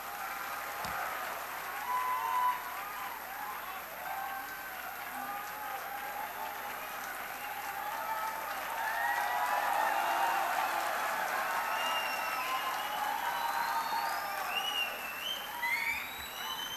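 Sustained applause from a lecture audience welcoming a guest speaker, a steady even roar of clapping held throughout at a moderate distance, with no talking over it.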